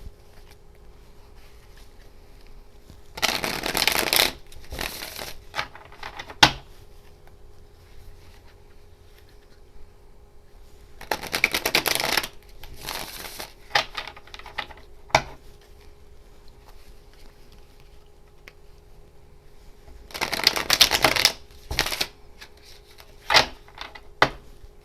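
Cards shuffled for a card reading, heard as three separate bursts of riffling and flicking, each a few seconds long, with quiet pauses and a few single sharp taps between them.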